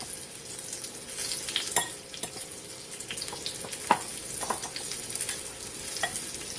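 Flour-coated pork chops fry slowly in a skillet, a quiet steady sizzle with intermittent scraping and soft clinks from a utensil, no talking.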